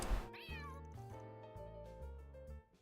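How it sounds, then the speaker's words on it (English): A cat in the Trails through Daybreak II video game gives a drawn-out meow over soft game music, near and clear, with no voices. "What sound are you making, cat?"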